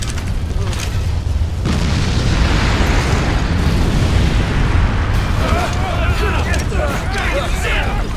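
Volcanic eruption in the video game Disaster: Day of Crisis, a loud sustained rumbling roar with deep booming bursts throughout, and a voice talking over it near the end.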